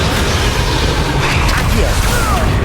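A Protego shield spell is cast in the video game Hogwarts Legacy on Xbox Series X, giving a loud, dense magical surge with booming, crashing texture that fills the whole moment, mixed with a voice.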